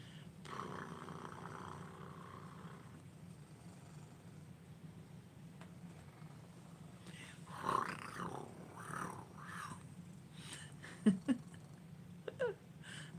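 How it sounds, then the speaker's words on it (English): A contented cat purrs with a steady, low, continuous rumble while rubbing against someone, heard up close. A few brief, sharper sounds break through near the end. "the purr motor's really going."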